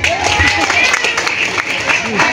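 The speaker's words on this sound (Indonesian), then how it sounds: "Tepuk tangan dulu." Crowd applause at a campaign rally in Gorontalo, a dense steady wash of many hands clapping close by, with voices and cheers mixed into it throughout.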